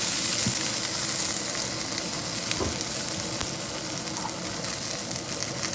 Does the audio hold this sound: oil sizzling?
yes